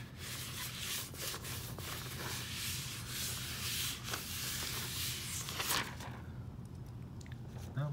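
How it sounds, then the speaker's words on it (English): A flat hand lightly rubbing around the edges of an inked intaglio printing plate, producing a close, soft, continuous rubbing and scuffing that fades toward the end. "with the flat of my hand just lightly rub around"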